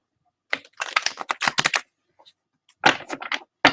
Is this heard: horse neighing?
no